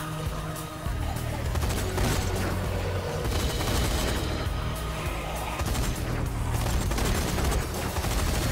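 Sustained gunfire at a shark in the Zombie Army 4 shooter, dense rapid shots and booms running continuously and loudly with little pause, with no talk.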